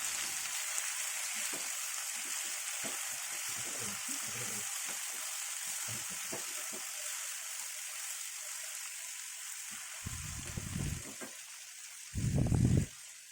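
Onions and tomatoes for tomato thokku sautéing in a pan: a constant bright sizzle with scattered scraping and clattering strokes as the mix is stirred, ending in two louder bursts of stirring, with no talking.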